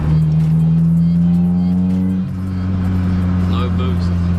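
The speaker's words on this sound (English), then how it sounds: "so if I drop it into third and go full throttle" Inside a Nissan S15 with an SR20DET turbo engine, a loud, close engine drone holds steady under throttle in third gear, with a slight dip in pitch partway through.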